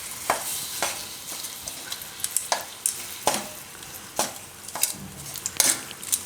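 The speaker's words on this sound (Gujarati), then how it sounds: "ગોળનો કલર ચેન્જ થાય ત્યાં સુધી આપણે એને ફેરવતું રહેવાનું" Desi jaggery melts in a pan over low heat for dhani ladoos while a spoon stirs it, giving a soft bubbling sizzle under regular loud scraping strokes against the metal, about one per second.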